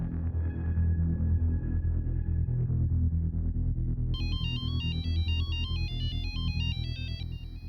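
Late at night a phone rings out halfway through with a bright, repeating electronic melody over a low steady drone.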